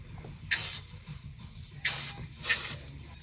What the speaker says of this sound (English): We're going to finish off with the Nick Stenson Light Hold Hairspray.